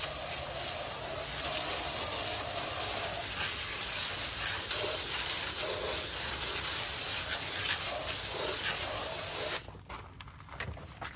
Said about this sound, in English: And then hit it with the hose.